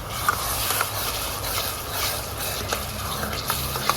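Chopped tomatoes stirred into onions frying in ghee for paneer chole: a steady sizzle with a scattering of wet scraping and clicking strokes from the spoon against the pan, close and fairly quiet.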